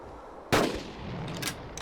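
A gunshot in the video game Carnivores Dinosaur Hunt, one sharp loud blast with a decaying rumble, followed by fainter crackling tail noises over a quiet background.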